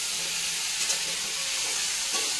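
Refined oil sizzling in a pan for chickpea ghugni, a continuous bright hiss that stays steady throughout with faint stirring underneath.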